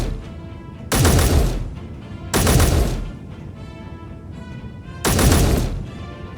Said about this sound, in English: it's definitely a turret over there